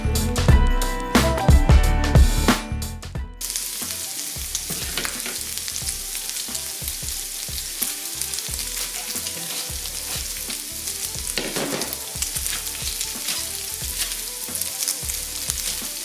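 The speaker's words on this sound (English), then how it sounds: "We'll keep stirring and cooking our mince" Pork mince, about 500 grams, fries in a pan while being stirred, a steady close sizzle with scraping stirs, louder clattering at the start then settling into continuous frying.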